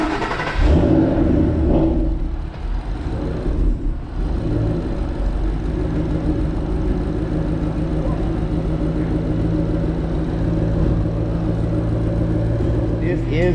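A Ford GT500 sits on a Dynojet chassis dyno, its engine rumbling and whirring steadily and loud throughout, with some revving near the start.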